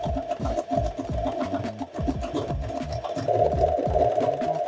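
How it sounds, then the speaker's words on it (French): A sewing machine runs steadily through a zigzag stitch along the edge of a bed sheet, its rapid rhythmic needle chatter and motor hum close and continuous, growing slightly louder near the end. "On va se mettre sur le point zigzag et on va venir zigzaguer au bord du tissu."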